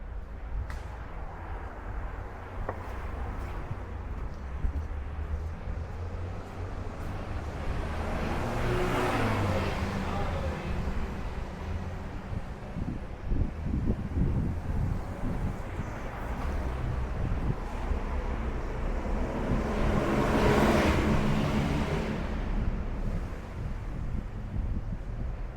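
Steady street traffic on a dense residential street in Villa Crespo, Buenos Aires, with cars passing at moderate distance and two louder vehicle swells, with wind buffeting the microphone throughout.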